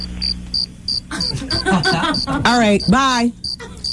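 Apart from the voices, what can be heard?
cricket chirping sound effect on radio show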